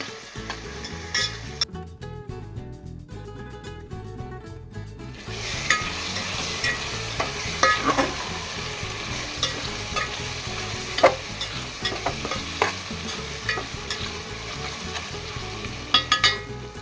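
Goan chorizo pork sausage frying and being stirred in a pot, a steady busy sizzle with scraping stirs throughout, growing denser and louder after a quieter, tonal opening few seconds.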